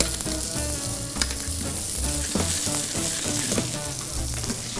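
Food fries in a hot pan with a loud, close, continuous sizzle and crackle, broken by a few soft scraping and stirring knocks, with no voices.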